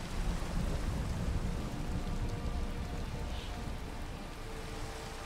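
Steady rain with rumbling thunder in the Minecraft video game, a dense, continuous wash of rainfall with low rolling rumbles throughout, heard alone without talk.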